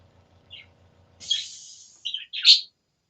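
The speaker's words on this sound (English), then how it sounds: "I don't know if you guys can hear them birds" Birds chirping outdoors, a few short high tweets and one longer call spread across a quiet moment, with a faint low hum at the start.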